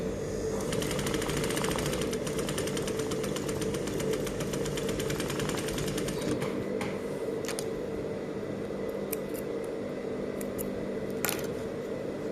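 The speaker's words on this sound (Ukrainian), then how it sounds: "Сшиваємо між собою деталі." A sewing machine stitches two fabric pieces together with a 5-7 mm seam allowance, running in a continuous fast mechanical whir close by, then stopping partway through, with a few faint clicks afterward.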